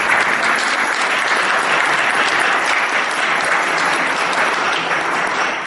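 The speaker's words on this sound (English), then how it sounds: "I think she deserves a big round of applause for her work" A crowd at a Puerto Rican Day Parade dedication in Rhode Island gives sustained, dense applause for the parade organizer, loud and steady throughout without talk.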